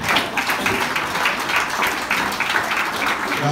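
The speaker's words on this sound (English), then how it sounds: "All round of applause, please." Applause from a crowd at a Hereford FC versus Merthyr Town football gathering, a steady wash of clapping holding at an even loudness for the full stretch, with a voice faintly present.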